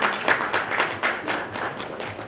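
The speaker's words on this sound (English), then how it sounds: "Let us give a big round of applause to the man who made it" Audience at a school event applauds to welcome a guest, brisk close clapping from a modest crowd with distinct hand strikes in an uneven rhythm.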